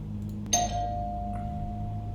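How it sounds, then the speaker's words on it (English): A single doorbell chime rings at a front door, a sharp strike followed by a long sustained tone that fades slowly over a steady low background hum. "should I knock on the door, ring the bell?"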